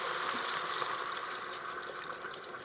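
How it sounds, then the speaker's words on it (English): Water pours from a tap into a cooking pot over corned beef and cabbage for soup, a steady close rushing fill with no talk. "I am just simply going to cover this with water"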